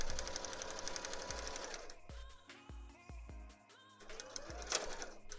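Sewing machine running in bursts while hemming the skirt of a Garbodor cosplay, a close, steady mechanical whir with rapid stitching pulses that stops and restarts several times, with no talking.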